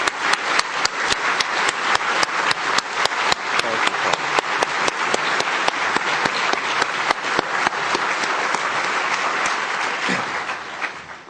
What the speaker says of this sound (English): Let's just give Paul Kirk a big round of applause for the wonderful job that he does